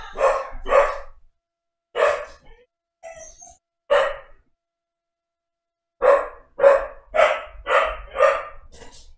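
A dog inside a house barks loudly and nearby in separated single woofs, then breaks into a rapid run of repeated barks after a pause.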